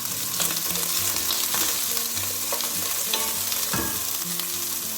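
Onions, fennel and garlic sizzle steadily in a pan for a lamb stew, with a spoon stirring and scraping now and then, close and continuous with no talking.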